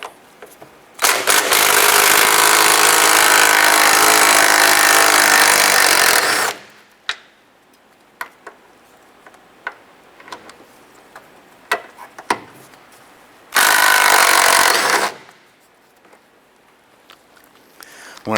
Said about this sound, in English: Using a 13mm socket on your impact or your ratchet, whatever you want to use, we're going to loosen these bolts here.